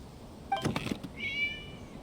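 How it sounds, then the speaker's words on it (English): A single short cat meow in Genshin Impact sounds clearly after a brief thud, then a higher drawn-out mewing tone trails off, with no talking. "It was just a cat."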